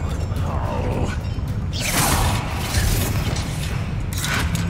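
A Confringo fire spell goes off in the wizarding action game Hogwarts Legacy as part of a fight, giving loud crackling bursts and rumbling booms over a dense combat din with no voices.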